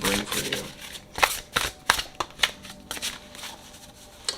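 A new Sugar Skull Tarot deck is shuffled by hand in a string of quick riffling and sliding bursts, close and fairly soft, with a faint voice in the background.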